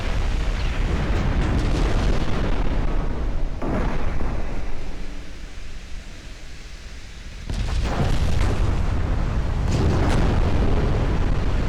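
In a naval strategy video game, heavy guns fire and a ship explodes: a sustained roaring blast of noise that dips into a quieter rumble midway, then surges again with renewed thunderous booms.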